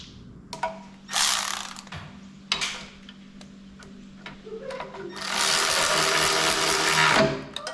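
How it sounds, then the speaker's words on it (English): An air compressor runs in a workshop, its motor clattering in short bursts before a long, loud rush of hissing air, with brief talk in between. "It's hard to film with an air compressor going."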